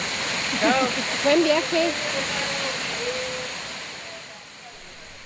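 Waterfall rushing with a steady broadband roar throughout, while a voice speaks briefly over it and birdlike chirps come and go in the foreground.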